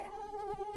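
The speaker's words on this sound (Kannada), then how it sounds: "ಯಾವುದು ಇದು ಸೊಳ್ಳೆ?" A mosquito buzzes close by with a thin, steady, wavering whine, brief and faint, with no voices.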